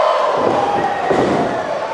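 A wrestling crowd at a WAR Wrestling Fansgiving event roars and cheers for another match, a loud, dense, continuous wall of voices filling the arena without pause.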